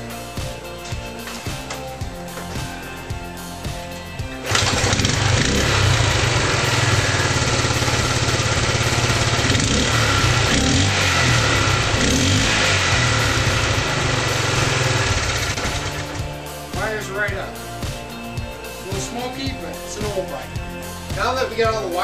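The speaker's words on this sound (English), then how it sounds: "let's see if this thing's gonna start." A motorcycle engine with freshly set ignition points fires up after a few seconds of talk and runs at a loud, steady idle for about ten seconds before shutting off, with talk before and after.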